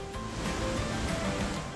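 Rajdari Waterfall in Chandauli, fed from the Chandraprabha Dam, gives a steady, broad rushing roar of falling water, even and unbroken throughout, with no voices.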